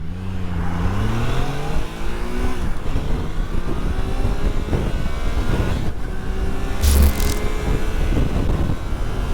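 A Triumph Tiger Sport 660 motorcycle, a 2023 A2-restricted model, accelerates hard and loud, its engine note climbing steadily through several gear changes, with a brief burst of wind or noise near the end.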